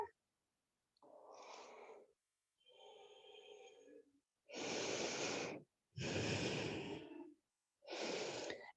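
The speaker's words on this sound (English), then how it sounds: "Take a nice belly breath there." Slow, deep belly breaths during a yoga session, close and clear: a few softer inhales and exhales followed by three fuller, louder breaths separated by short silences.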